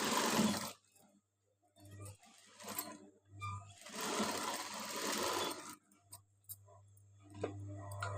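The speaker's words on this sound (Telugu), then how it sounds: "మిషన్ మీద దగ్గర కుట్టేసుకోవాలండి ఎందుకంటే ఇది థ్రెడ్ కదా అందుకని ఇలా కుట్టేసుకోవాలి" A sewing machine stitches thread while making cut and stitched dori angles, whirring in bursts of a few seconds separated by pauses, with ticking clicks and handling noises between runs.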